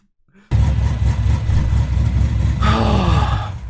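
Loud, steady engine roar from the Ballistic Bandit 4x4 Trans Am, kicking in abruptly after a near-silent start and running continuously close up, with a rising revving swell near the end.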